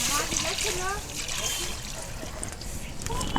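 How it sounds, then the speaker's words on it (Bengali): Water pours and splashes into a hot kadai for boiling potatoes, a brief close splattering rush with a faint voice in the background. "কড়া গরম হয়ে গিয়েছে জল দেব আলুটা সেদ্ধ করে নেব জল দিচ্ছি"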